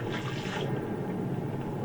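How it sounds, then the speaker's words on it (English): Water fills something up in the Lego Harry Potter 2 video game, a continuous, gushing rush of liquid that stays loud and steady from start to finish, with no talking. "fill this up with water"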